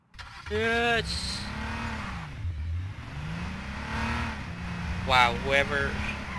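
A hotwired car in the video game H1Z1 starts and revs, its engine droning and rising in pitch through repeated accelerations, with a voice briefly heard over it.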